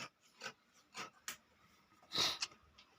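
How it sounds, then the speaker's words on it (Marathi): Scissors cutting extra fabric off a folded quilt made from old saris: faint, close snips and rustling scrapes in short irregular bursts over about three seconds, with no talking. "फोल्ड करून पण जो काही एक्स्ट्रा भाग राहील तो कापून टाकायचा आहे"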